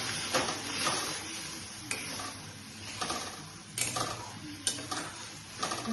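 Hilsa fish curry ingredients with mustard and coconut sautéed in a pan, a spatula scraping and stirring in bursts over a steady low sizzle, with occasional metallic knocks against the pan.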